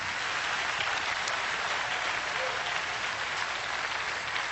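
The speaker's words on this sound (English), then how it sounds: "If you believe it, clap your hands even now." Dense, steady applause from a large audience, continuous and loud throughout with no pauses.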